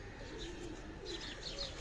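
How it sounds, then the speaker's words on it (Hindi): Pigeons coo softly from a rooftop loft in Lahore, faint low calls with light chirps over quiet background. "ये बहुत तेज कबूतर है"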